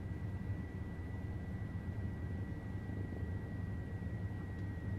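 Steady low rotor and turbine drone of an OH-58D Kiowa helicopter lifting off at Fort Campbell, Kentucky, in the TacFlight flight game, a constant loud hum with a thin high whine running through it, no voices.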